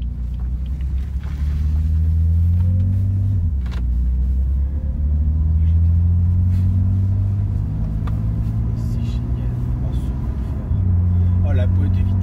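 A BMW M4 rumbles low as it pulls through the gears, engine tone rising then dropping at each shift, steady and fairly loud inside the cabin with people talking over it.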